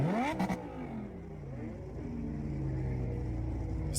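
BMW M4 Competition engine at a car meet, revving up sharply then settling into a steady rising drone with shifting pitch, close and loud with no talk over it.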